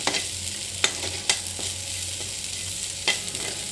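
Crushed peanut powder roasts in a pan with a soft, steady sizzle, broken by a few sharp spatula scrapes as it is stirred, close up and with no voices.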